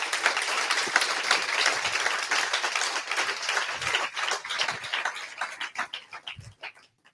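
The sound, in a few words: audience applause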